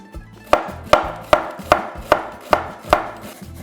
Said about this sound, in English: I've got my onions here that I'm going to chop up